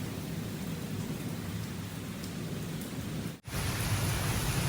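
Heavy monsoon rain pours steadily in Lahore, a dense unbroken hiss with a brief dip before it resumes, no voices.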